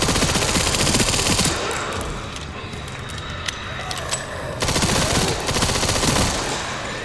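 Sustained rapid bursts of submachine gun fire in the survival horror game Resident Evil Requiem, loud and dense, with a brief lull in the middle before a second long burst.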